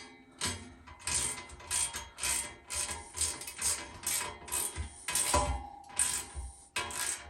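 A ratchet wrench tightens bolts with nylon insert nuts while fitting a Harbor Freight Haul Master ATV cargo carrier, giving repeated bursts of close, loud clicking in short strokes with brief pauses between them.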